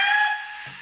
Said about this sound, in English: Number 4 is a whistle.